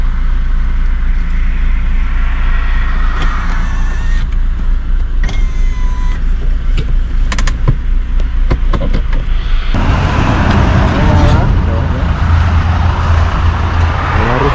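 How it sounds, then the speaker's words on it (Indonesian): Traffic at the KM 127 rest area on the Jakarta–Semarang toll road: a loud constant vehicle drone with engine hum, scattered clicks and thuds, swelling as a vehicle passes close by near the end. "Suasana rest area KM 127."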